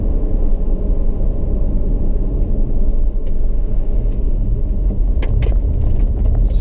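A car cruises along a rough, freshly resurfaced highway with loose gravel, its tire roar and low rumble steady and loud throughout, with a few brief higher crackles near the end.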